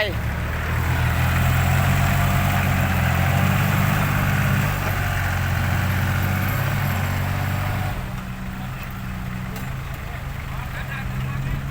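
A tractor engine idles low and steady, a continuous rumble running under Thai voices talking throughout, dropping slightly in level near the end.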